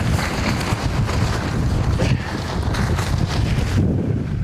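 Strong wind gusts outdoors at a hunting camp where a tent has collapsed, roaring steadily and buffeting the microphone with loud, constant rumbling and no speech.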